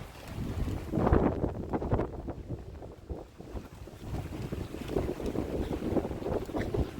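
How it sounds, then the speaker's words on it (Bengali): Speedboats on the water off Long Island, heard as a rumbling motor and wash of water under heavy gusting wind noise, with no talk. "অনেক সুন্দর ভিউ। অনেক স্পিড বোট এখানে।"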